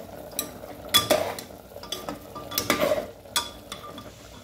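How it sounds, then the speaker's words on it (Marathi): A spoon stirring food in a metal pot in a home kitchen, with irregular scraping clinks and knocks over a low sizzle, close and fairly loud. "आता हलवून घेऊ आपण"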